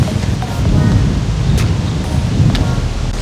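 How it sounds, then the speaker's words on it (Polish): Strong, gusty wind on an autumn mountain path in the Beskid Niski buffets the microphone with a continuous low roar, rising and falling in heavy gusts. "Wiatr po prostu prawie że zmiata nas z tej ścieżki."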